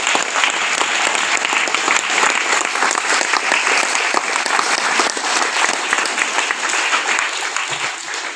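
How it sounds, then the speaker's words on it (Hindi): Loud, dense applause from a congregation at a church gathering fills the space evenly from start to finish, sustained without pause. "ताली बजाइए उसके द्वारा।"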